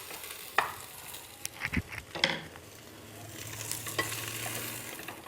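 Jackfruit roasting in a pan, heard as a soft sizzle with scattered scraping stir strokes and a few clinks. The sounds are quiet and close, with no talking.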